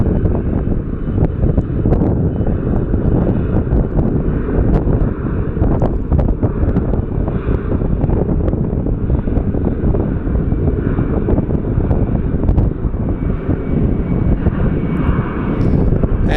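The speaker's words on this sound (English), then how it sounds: "we have a SkyWest coming in from El Paso. Maybe we'll get it landing." A SkyWest airliner arriving from El Paso roars in to land at Phoenix Sky Harbor airport, its loud, steady engine rumble filling the scene throughout with wind buffeting the microphone.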